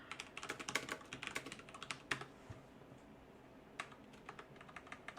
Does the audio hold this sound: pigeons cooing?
no